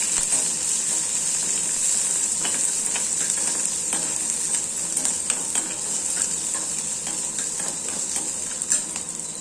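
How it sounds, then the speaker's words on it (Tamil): Onion, green chili and ginger sautéing in a hot pan for barnyard millet dishes, a steady close sizzle broken by frequent scrapes and stirring clicks of a spoon, with no talking. "வெங்காயம் பச்சை மிளகாய் இஞ்சி போட்டுக்கலாம் இப்போ நம்ம வதக்கி விட்டுக்கலாம்"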